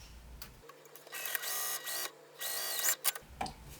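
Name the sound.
sewing machine sewing across binding piece of satchel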